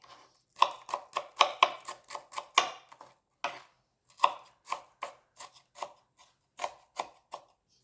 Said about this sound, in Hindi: और फिर हमने धनिया, हरी मिर्चें सब कुछ काट के और इसके अंदर डाल देनी है।